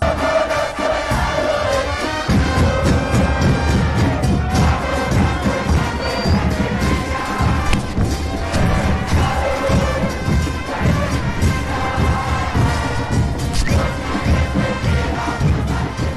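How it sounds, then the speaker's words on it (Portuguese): A massed crowd of the La Cámpora group at an Argentine election rally chants and roars continuously, loud and dense, with drums thudding in the mix throughout. "Olha como é a manifestação do grupo La Cámpora em uma corrida eleitoral."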